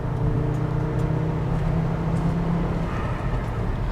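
A manual Volvo V70 T5's turbocharged five-cylinder engine drones steadily from inside the car, its low intake hum loud and constant with a slight rise in pitch, no voices over it.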